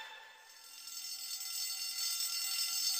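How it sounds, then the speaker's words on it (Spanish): Hotel fire alarm ringing continuously, a steady electronic bell tone with rich high overtones, moderately faint and slowly swelling in loudness, with no voices over it. "Dan la alarma de que hay un incendio en el hotel, se desaloja el hotel"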